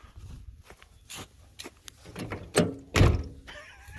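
Doors of an old van being closed after towing, a few solid thunks and clunks with scattered handling noises in between, close by.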